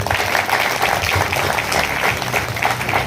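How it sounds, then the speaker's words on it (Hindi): A small audience at a Hindi poetry recital breaks into loud, dense applause, vigorous clapping sustained throughout, close and full-sounding. "तो एक बार अपने लिए जोरदार तालियां बजाइए"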